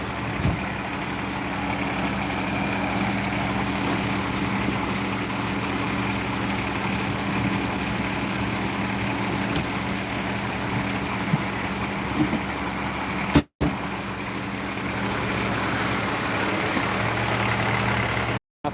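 Fire engine 32 idling nearby, a steady low diesel rumble with constant tonal hum that holds evenly throughout, briefly cut by a short dropout near the end.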